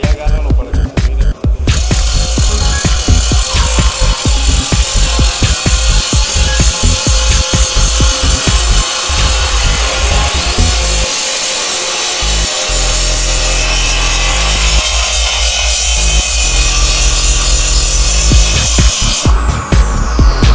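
A power tool grinds down weld spots to a factory finish, giving a loud, continuous abrasive whine with a few brief dips in intensity.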